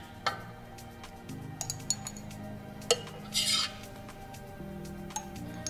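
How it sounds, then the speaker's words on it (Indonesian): A teaspoon presses graham cracker crumbs down into a glass jar, giving faint scraping rubs and a few light clinks against the glass, close and quiet. "Kalau sudah ditekan-tekan pakai sendok tehnya, jadi supaya dia itu padat."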